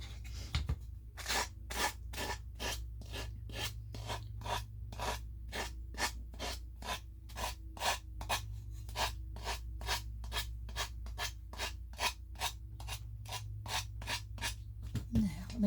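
A small wooden Christmas tree ornament hanger is sanded with an emery board in a quick, steady series of close, scratchy back-and-forth rubs over a low background hum.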